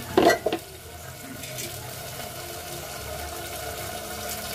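Spices frying in a pan for dal makhani are stirred with a spoon, giving a brief clatter at the start followed by a steady low sizzle that continues alone and close by.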